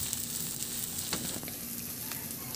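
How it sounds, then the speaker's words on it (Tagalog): Onions sautéing in a pan while being stirred, a steady close sizzle with soft scraping touches running throughout, no voices. "Ihalo ko lang yan hanggang sa maglabas lang yung ng aroma o mag-translucent yung sibuyas."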